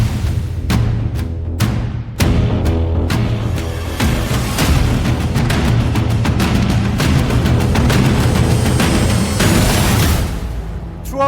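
Indian army artillery firing at the high-altitude Line of Control in Kashmir: a dense, loud run of booming blasts and sharp bursts, several distinct thuds early on, then a sustained roaring barrage with no voices.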